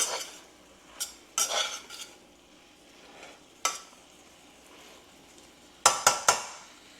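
A spoon scrapes and clanks through a pot of fried cabbage as shrimp and sausage get stirred in, with scattered bursts of stirring and a final quick trio of sharp clatters close by, and no talking.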